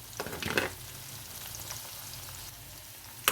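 Shallots, garlic and ginger fry in hot coconut oil in a pan, a soft steady sizzle with a short louder crackle near the start, heard alone.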